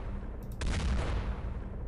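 A single burst of gunfire from the X-COM Files game, a sharp crack followed by a rumbling boom that fades over about a second.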